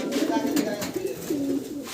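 A pair of big Lahori fancy pigeons coos up close, with soft, rolling throaty calls repeating in short phrases.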